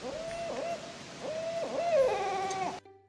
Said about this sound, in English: Owls mainly hoot at night